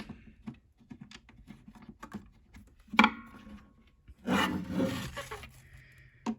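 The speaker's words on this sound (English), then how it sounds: "put the screws in. And they're kind of self-threading." Faint rubbing and ratcheting as self-threading screws are driven into a DEPO taillight housing for a third-generation Acura TL, with small clicks, a sharp knock near the middle and a louder grinding scrape toward the end.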